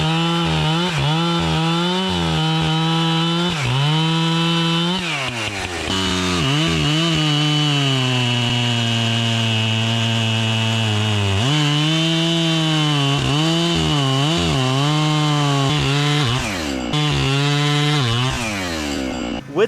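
An Echo 620P chainsaw with a chain that bucked a green white oak log runs loud and close, its engine droning steadily with pitch dips and swells as it bogs into the wood and revs back up.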